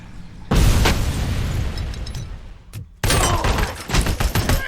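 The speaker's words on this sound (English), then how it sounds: "That's a grenade." A grenade explodes with a loud, broad boom in RoboCop: Rogue City, a blast that rumbles and decays for a couple of seconds. A sharp cut follows, then a second burst of loud crackling, debris-like noise.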